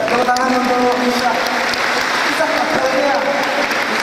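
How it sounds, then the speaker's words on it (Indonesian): Talk-show audience applauding for Isa, loud sustained clapping from a crowd with a voice and some music-like tones running beneath it. "Tepuk tangan untuk Isa."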